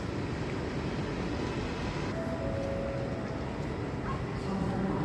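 Inside Oslo S railway station in Norway, a constant hall rumble and murmur holds at moderate level, with a faint brief tone partway through.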